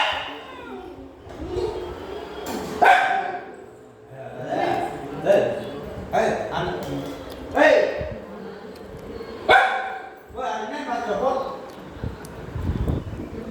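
A dog barks in a series of loud, near, harmonic barks and yips spaced a second or two apart, with some whimpering and rough outdoor background noise between them.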